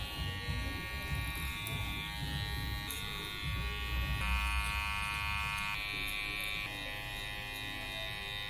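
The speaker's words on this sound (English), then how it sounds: "Today we're going to be using the unreleased Black Effects, Sofie's custom babyless clipper" Electric hair clippers, an unreleased custom Black Effects model, buzz steadily and continuously close by during a haircut, with small shifts in pitch as they work through hair.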